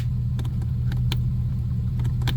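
A Mercedes CL500 that won't start rumbles loudly and continuously while the starter cranks, with faint intermittent ticks and clatters over the heavy low drone.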